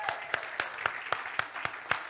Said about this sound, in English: Let's give the Lord an applause this morning